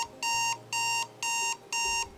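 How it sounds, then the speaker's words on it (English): A phone alarm going off, sounding four loud, bright electronic beeping bursts in a steady on-off rhythm, each about half a second long, close and clear with no talk. "my alarm will go off and that sound will be happening."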